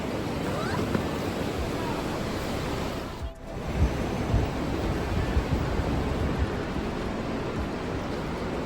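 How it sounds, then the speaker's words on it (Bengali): Hot spring water at the Manikaran Sahib temple rushes in a steady, loud, broadband roar, continuous and close, with only a brief dip partway through and no clear voices. "দেখো এখানে কত গরম জল।"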